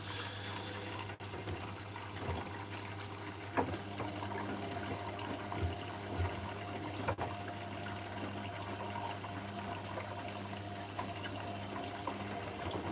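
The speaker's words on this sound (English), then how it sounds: "it's doing the slower tumble rinses because it's doing the extra rinse" A Hotpoint washing machine on an extra rinse, tumbling slowly, gives a steady wash of sloshing water with a low constant hum and occasional soft thuds, moderately loud and continuous with no talking.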